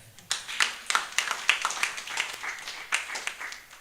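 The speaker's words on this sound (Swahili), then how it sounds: "Sipige Bwana makofi" A church congregation at a Sunday service claps in a quick, irregular rhythm in praise of the Lord. The sharp claps repeat steadily for several seconds at moderate volume with no one talking.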